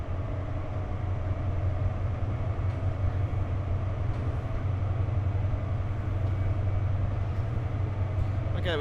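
A modern train in Train Sim World 4 rolls along the Peak Forest line toward Chinley, a steady low rumble and hum of wheels and traction under a constant cab drone, loud and continuous without a break.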